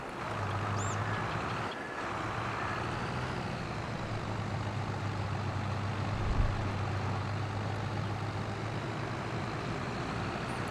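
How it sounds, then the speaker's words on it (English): Small tractor engine pulling an empty trailer in a farming video game on a flat map, a steady low diesel drone at moderate loudness with wind-like hiss, running alone without talk. "Tractor seems really underpowered even without a load on the trailer"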